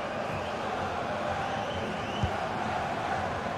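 Stadium crowd at a women's World Cup football match between Portugal and the USA, a steady broad roar of many spectators cheering throughout, with one brief thump partway through.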